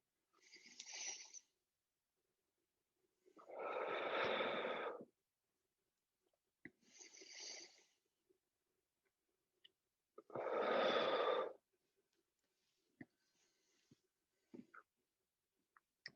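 Deep, slow breathing during a Tai Chi exercise: two soft hissing inhales alternate with two fuller, louder exhales in a calm, even rhythm, close and quiet with silence between breaths.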